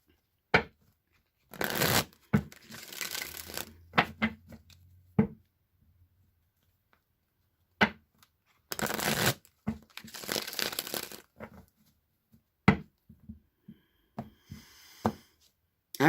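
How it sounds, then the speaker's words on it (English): Tarot cards are shuffled in bursts, two longer riffling passes separated by quiet gaps, with scattered sharp taps and flicks as the deck is squared and handled up close. "let me just shuffle the tarot cards a few times to get some clarity for you"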